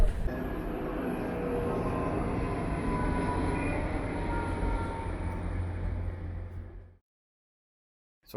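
A passenger train ride home, with a steady loud rumble and rattle of the carriage rolling along the tracks for about seven seconds before cutting off abruptly to silence.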